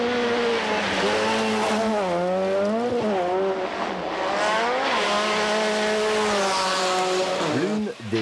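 A Lancia Integrale rally car races flat out on a gravel stage at the 1989 Rally of Finland, its engine note rising and falling through gear changes with tire noise, under continuous commentary from a narrator.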